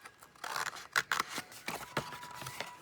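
Scissors snip through cardboard in a quiet indoor setting, a series of short, crisp cuts and rustles spaced unevenly over a few seconds with no talking.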